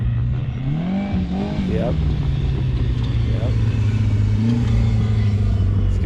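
2024 Polaris Pro R side-by-side fitted with a big turbo, engine revving and easing off the throttle, with pitch swooping up and down against a steady low drone; a voice speaks briefly.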